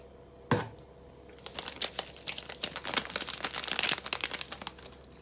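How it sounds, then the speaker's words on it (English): Crinkly plastic wrapping around a bar of black soap rustles and crackles in quick bursts, with a sharp scissor snip at the start and busy crinkling handling afterward, close and fairly quiet. "I'm going to cut here with scissors."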